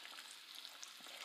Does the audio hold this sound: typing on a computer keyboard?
no